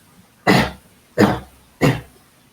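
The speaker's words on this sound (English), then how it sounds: "Deep cough for 3 times." Three deep, forceful coughs, evenly spaced and close by, with short silences between them.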